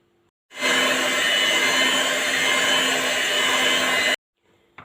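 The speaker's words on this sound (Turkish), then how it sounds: "Labne peyniri ve margarinle bir 5 dakika kadar mikserde çırptık." An electric hand mixer whips labneh cheese with margarine and pudding for a tiramisu, running as a loud, steady whirring drone for about three and a half seconds before cutting off abruptly.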